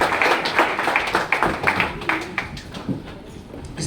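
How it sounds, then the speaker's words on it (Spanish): A church congregation claps during an evangelist's sermon, with dense, uneven hand claps at close range that gradually thin out over a few seconds. "Dale un fuerte aplauso al Señor"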